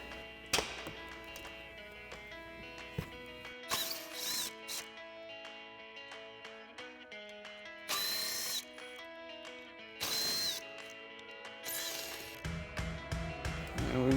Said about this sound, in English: So we've got our clip removal tool, also a 7 millimeter socket on our impact.